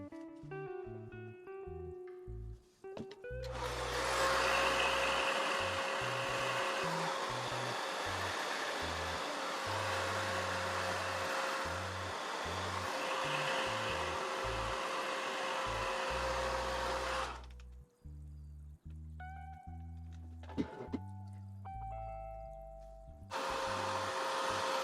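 A hair dryer fitted with a diffuser runs steadily for about thirteen seconds while drying curly wash-and-go hair, a loud continuous airflow whir that cuts off abruptly, with handling clunks and rustling before and after.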